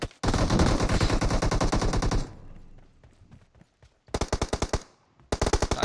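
Rapid automatic gunfire in the mobile shooter PUBG Mobile team deathmatch, a loud sustained burst of shots for about two seconds, a quieter gap, then two more sharp bursts close up.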